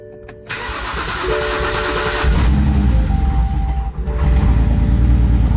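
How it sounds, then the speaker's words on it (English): A BMW X5 engine cranks briefly, then catches and settles into a steady idle, loud and close with no talking. "This is literally the first attempt to start this car."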